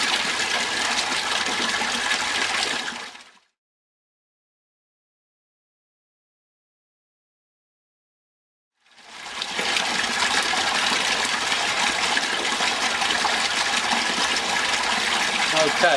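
Water pump running at 70 watts pushes a strong gush of water through a sieve pre-pump filter, a steady rushing flow that cuts out to silence for several seconds and then returns just as loud.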